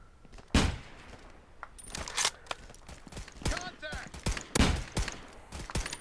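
Sniper rifle shots ring out in the Contractors VR shooter on Oculus Quest 2: several sharp, loud cracks spaced irregularly over a few seconds, with clicks and handling noises between them.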